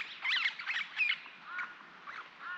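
Small parrots squawk and chatter at a bush campsite by a desert spring in outback Australia, a flock of scratchy calls overlapping at middle distance.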